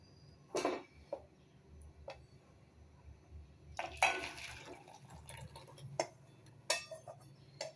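Buttermilk curry (mor kuzhambu) is poured and spooned into a serving bowl, with quiet liquid splashes, drips and clinks of a ladle against the vessel, close and intermittent.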